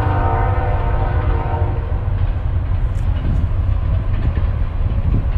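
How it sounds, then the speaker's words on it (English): A loud train rumbles close by in Weatherford, Texas, with a sustained horn blast at the start, then steady rolling clatter of the wagons. "Yeah, they're super noisy trains"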